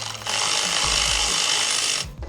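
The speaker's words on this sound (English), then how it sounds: "we can get our electric ratchet and plug it on, and then let it go." An electric ratchet backs out the oil pressure sensor on a Jeep JK with the 3.6L Pentastar V6, a close steady whirring buzz for about two seconds that starts and stops abruptly.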